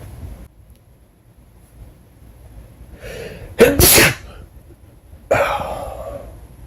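A single person's sneeze, loud and close: a brief gasping inhale builds up, then one sharp explosive burst, followed by a softer breathy exhale a moment later against a quiet background.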